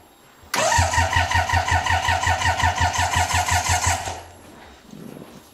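A carbureted BMW R80 GS motorcycle engine cranks and fires up, running loud and close with a rapid, even pulsing beat for about three and a half seconds before cutting out, followed by a brief faint noise.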